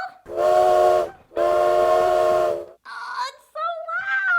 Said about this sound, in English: We better blow the whistle.